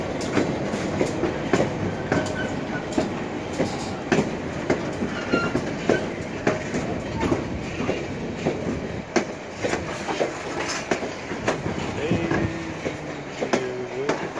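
A White Pass train rumbles and clatters along the tracks with steady rhythmic clickety-clack, occasional wheel squeal, heard from inside or close by, continuous for a long stretch.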